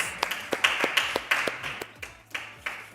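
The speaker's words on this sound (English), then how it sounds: "Yeah, so we're giving him a round of applause." A few people clapping at a modest, fairly regular pace, each clap distinct and close, giving a sparse small-room round of applause for a giveaway winner on a live talk show.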